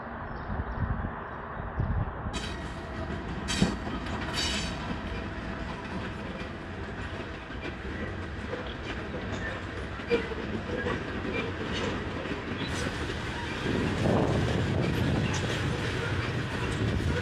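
A long freight train rolls past outdoors in rural West Virginia, a continuous rumble with rhythmic clickety-clack of wheels and occasional squeals, fairly close and steady for the whole stretch, with faint talk at moments.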